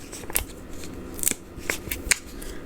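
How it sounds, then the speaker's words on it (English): Scissors cutting tiny paper strips, giving a few sharp, close snips spaced irregularly over a quiet background. "And cut myself some tiny little strips."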